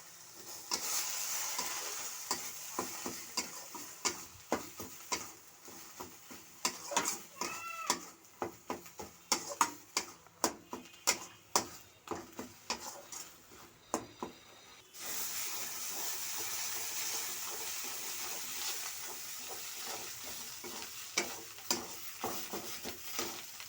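Cauliflower leaf paste fries in a pan with salt and turmeric, giving a soft sizzle with repeated scraping stir strokes, then a steadier hiss; the sound is close and fairly quiet, with no talk.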